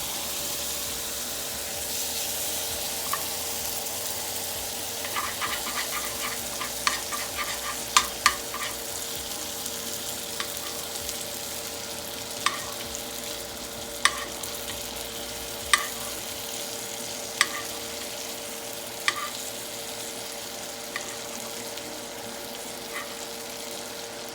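Butter sizzles and fries in a pan while ramen is being made, a steady crackling hiss with scattered louder pops and spatters, heard close with no talking.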